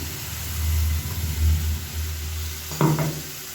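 Ground tomato paste hits a hot pan for a paneer masala and sizzles, a steady frying hiss with a low hum beneath and a brief clatter of stirring near the end.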